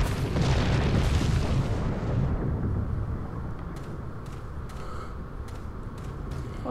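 A rolling boulder in the video game Resident Evil 4 gives a loud, deep booming rumble that fades into a steadier low roll, broken by a few sharp knocks near the end.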